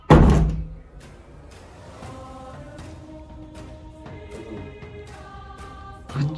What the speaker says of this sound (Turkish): Kapıyı kapat.